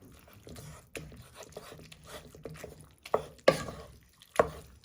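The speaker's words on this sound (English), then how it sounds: "Then you want to give it a good stir in." Beef and black pepper noodles being stirred in a pan, giving soft scraping and clattering strokes that grow into a few louder knocks and scrapes near the end.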